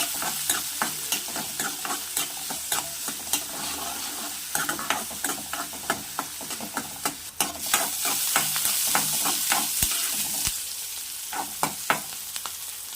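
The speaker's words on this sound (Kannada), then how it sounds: "ಈರುಳ್ಳಿ ಎಲ್ಲ ಚೆನ್ನಾಗಿ ಫ್ರೈ ಮಾಡ್ಕೊಳ್ಬೇಕು" Onions frying in oil in a pan, a loud continuous sizzle with a steady rhythm of spatula scrapes and taps as they are stirred throughout.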